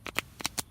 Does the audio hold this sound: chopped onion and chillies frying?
no